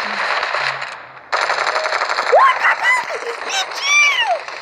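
Gunfire in the game Standoff 2 crackles in quick bursts beneath a busy mix of game effects and chatter, with bright whooshing sweeps near the end.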